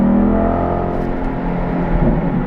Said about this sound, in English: That is the exhaust system, which is a mono custom exhaust.